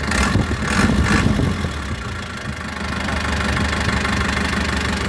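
An Isuzu NKR 110 hp truck engine idles close by with a steady, slightly knocking diesel rumble, a few sharper mechanical taps at the start, and no voices.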